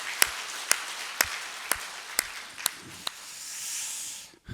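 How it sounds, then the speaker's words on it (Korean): A church congregation claps together during a worship service. About seven sharp, evenly spaced claps sound in unison, then fade into a soft hiss of room noise. "우리 박수 한번 합시다"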